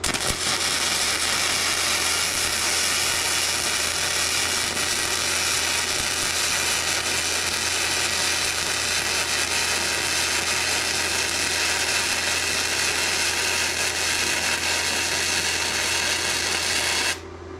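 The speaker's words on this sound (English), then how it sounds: "Okay, now the third weld, slow it down even more." An ArcCaptain MIG130 welder lays a slow MIG weld bead, giving a steady, close crackling hiss that runs unbroken for over fifteen seconds before stopping abruptly.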